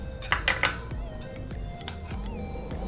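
Metal spoon clinking and scraping against a bowl while mixing creamy pasta salad with mayonnaise and lemon juice, a quick cluster of bright clatters followed by softer intermittent taps.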